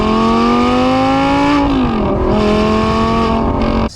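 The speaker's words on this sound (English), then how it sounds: "Stock exhaust on the V10 R8s sound great." An Audi R8 V10 gated-manual supercar on stock exhaust roars loudly and steadily, its pitch climbing, dipping briefly as it shifts, then holding a sustained snarling howl up close.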